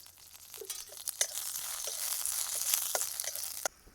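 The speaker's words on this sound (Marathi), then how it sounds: "मिरच्या पण चांगल्या भाजल्यात।" Green chillies and masala roasting in a hot pan, a steady close sizzle with scattered crackles and stirring scrapes, cutting off abruptly at the end.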